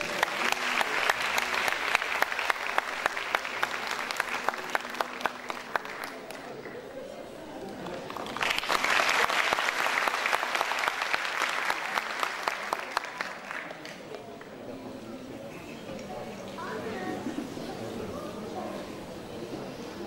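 Applause for a soloist after a live performance of a song, dense crowd clapping that swells to a louder peak midway, then thins and fades toward the end, with scattered voices in the room.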